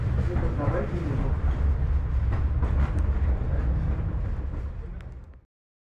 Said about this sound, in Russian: приходит трамвай